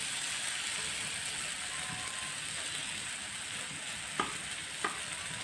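Onions, tomatoes and green chillies fry in a pan with a steady, even sizzle throughout, and two brief sharp scrapes of a spoon stir the mix near the end.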